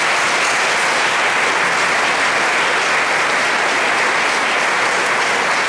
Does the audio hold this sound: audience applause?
yes